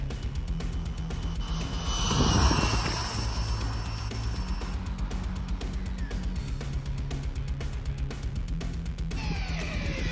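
Laegendary Thunder RC car on a 3S LiPo doing a speed run, a high-pitched electric motor whine rising as it passes close by around the midpoint, over steady background noise.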